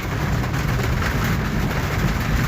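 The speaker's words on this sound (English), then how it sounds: "a pure rain, man" Heavy rain pours down outdoors in St Bess, a loud dense continuous hiss and patter with no talk.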